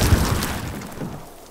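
A mortar shell explodes in a Call of Duty World War II street battle, a single heavy boom at the start that rolls off into a fading rumble.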